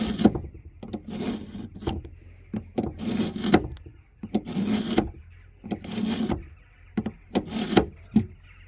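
A rusty knife blade scrapes on a Patriot Multi Sharp sharpener in repeated rasping strokes, each burst lasting about half a second with short pauses between, fairly close and steady.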